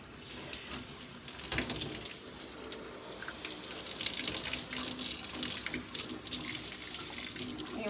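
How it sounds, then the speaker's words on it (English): Water sprays steadily from a tap-style nozzle while a dog is bathed, a continuous hissing wash with small splashy variations throughout, close and fairly loud. "you want to make sure you never shoot water in their ear"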